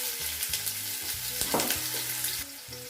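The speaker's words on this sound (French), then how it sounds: "on va faire revenir un oignon qui est coupé grossièrement" Coarsely chopped onion hits hot vegetable oil for souloukhou mbalakh, giving a loud, steady sizzle and crackle with repeated stirring scrapes in the pan; a sharp burst of spitting flares up midway, with no talking.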